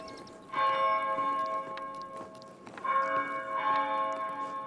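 Church bell tolling in the Pentiment video game, two sustained ringing strikes with long humming decay, moderately loud and alone.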